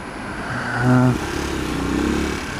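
A Honda XR125L motorcycle runs nearby and shifts through its gears, giving a steady single-cylinder engine drone that rises briefly and then settles, while someone speaks over it.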